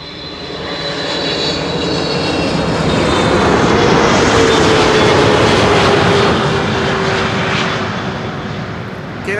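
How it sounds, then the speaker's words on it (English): KLM Boeing 777-300 arriving at Schiphol on the Kaagbaan runway, a loud, broad engine roar that swells as the jet passes close by and then slowly eases off. "KLM flight 592, 777-300 arriving from Johannesburg, South Africa."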